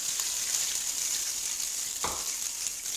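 Sausages frying in rendered chorizo fat for frijoles charros give a continuous close hiss and sizzle, with a single brief stir or scrape near the end.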